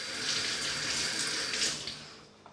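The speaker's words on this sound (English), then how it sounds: "just rinse the knife under cold water." A kitchen knife is rinsed under a cold running tap while onions are being chopped, and the water pours in a steady, soft hiss into the sink with slight splashy swells.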